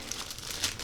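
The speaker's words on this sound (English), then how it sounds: "I'm going to rip open the top," A plastic bag being ripped open at the top, a short crinkling tear heard up close and fairly quiet.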